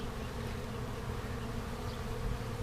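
Honeybees at a small, busy hive on a warm day, a dense continuous buzzing drone from many insects heard up close without talk.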